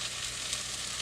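Eggs hitting a hot pan give a brief, faint, steady sizzle.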